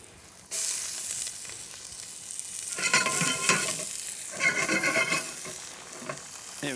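Rough-chopped garlic dropped into a pot with onion, starting with a sudden sizzle, then steady frying and intermittent louder bursts of stirring and scraping, close and clear, with no talking.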